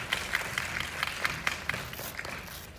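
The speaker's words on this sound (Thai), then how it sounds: "ขอเสียงปรบมือให้กับนักแสดงหลักของเราด้วยนะฮะ" A small audience claps for the lead actress, BNK48 member Cherprang, at a launch event for a life-insurance advertising film. The applause is fairly faint and distant, with individual claps standing out in an uneven rhythm.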